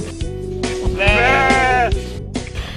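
A sheep bleats at a sheep farm in Suan Phueng, giving a loud, close, wavering cry of about a second, with lower animal and ambient sounds around it.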